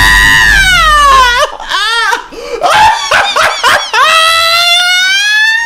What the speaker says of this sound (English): Someone's screaming for help, man.